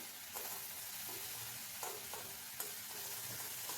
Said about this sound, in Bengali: এখন এই পেঁয়াজ রসুনটাকে তেলের মধ্যে বেশ ভালো করে ভেজে নিতে হবে